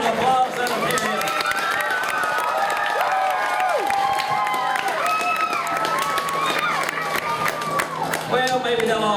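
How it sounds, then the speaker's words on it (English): A crowd at a lumberjack competition claps and cheers loudly and continuously, with excited whoops and animated voices mixed through the dense, lively applause. "Y'all give them all a great big round of applause."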